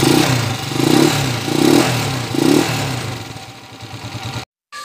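A small engine running after a valve clearance adjustment, idling with a rhythmic pulsing throb and light clatter from a rocker arm, close and fairly loud before cutting out.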